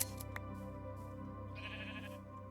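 Minecraft sheep bleat faintly a couple of times against quiet in-game ambience, with no talking over them.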